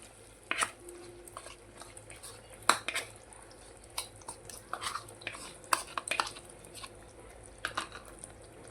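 Tomato purée and yogurt mixture being stirred in a pan for a spicy dahi chole curry: scattered metallic scrapes and clinks of a spoon against the pan, fairly quiet, with a faint bubbling bed.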